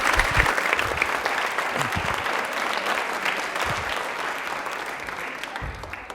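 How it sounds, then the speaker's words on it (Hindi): A studio audience on a televised quiz show gives loud applause for a correct answer. The dense clapping is sustained for several seconds, with scattered low voices beneath it. "ताली एक बार जोरदार बजा दीजिए इनके लिए।"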